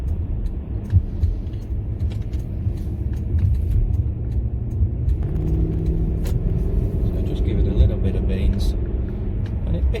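A Jaguar XJ8 X350 V8 luxury saloon pulls away on the road under light throttle, its low engine rumble and road noise running steadily beneath someone talking throughout.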